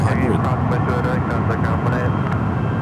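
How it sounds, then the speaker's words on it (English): A brand-new SAS Airbus A350-900 jet roaring on takeoff, a loud continuous engine rumble heard from nearby with a brief spoken word over it. "SAS heading back to Copenhagen with this brand new A350-900."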